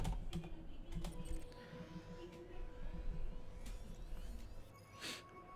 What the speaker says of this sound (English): So we're going to type in the name.